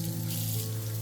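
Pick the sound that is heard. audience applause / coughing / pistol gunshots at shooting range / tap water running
tap water running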